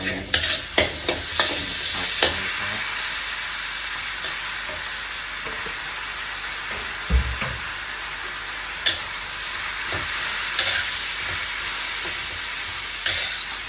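Garlic frying in oil in a pot for a Thai chap chai vegetable soup, a steady bright sizzle with occasional stirring knocks and clatters, alone with no talk.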